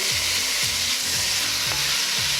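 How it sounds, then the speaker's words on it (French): Onions and bacon sizzle steadily in a pan, with a spoon scraping and stirring at a regular rhythm over the constant frying hiss, close and fairly loud. "Continuez à faire revenir. jusqu'à ce que vos oignons soient légèrement translucides."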